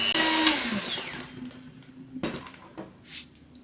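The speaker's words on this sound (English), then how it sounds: "we're going to beat our lard and our sugar until light and fluffy" An electric mixer whirs through lard and sugar in a home kitchen for bizcochito cookies, its motor pitch dropping as it winds down, followed by a few clinks and knocks of the beaters against the bowl.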